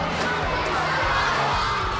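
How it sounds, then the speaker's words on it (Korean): Crowd of children cheering and shouting as a rocket they built flies far at a school launch contest, a dense continuous roar of young voices, loud and close throughout. "반대로 멀리 나갈 때는 경쟁팀 할 것 없이 아이들의 환호성이 터져 나옵니다"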